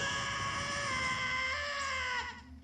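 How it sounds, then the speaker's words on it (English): Link lets out a long, high, wavering scream as he falls in Zelda: Ocarina of Time 3D, loud and sustained before it fades out abruptly near the end. "Good God, that scream is blood-curdling."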